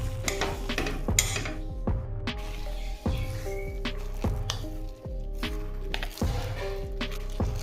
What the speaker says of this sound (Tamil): இப்போ நம்ம சீரகம் எல்லாமே போட்டு குழைக்கலாம்